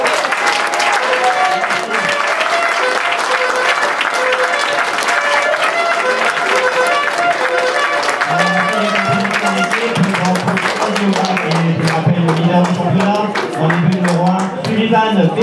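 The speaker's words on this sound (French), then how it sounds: "sous vos applaudissements, s'il vous plaît" Sustained crowd applause at an amateur football match as a team is introduced on the pitch, loud and continuous, with a voice talking over the clapping and some music-like tones in the background.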